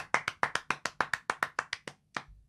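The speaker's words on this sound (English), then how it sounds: "let's give a bit of a round of applause" A round of applause on a wrestling podcast, sounding like a dozen or so distinct, evenly spaced claps, each one loud and near, with a short break before the last few.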